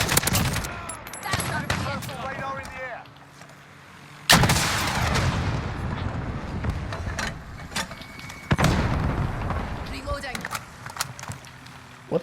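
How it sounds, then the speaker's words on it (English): Heavy explosive blasts from a rocket launcher in Call of Duty Modern Warfare, several sharp loud booms with rumbling tails amid gunfire and game noise, with people talking over it. "What the hell is that rocket launcher?"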